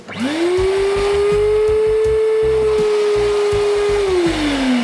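A vacuum cleaner whines loudly and steadily, its motor pitch rising at start-up and dipping at the end, with bumps and rattles as it works inside a car.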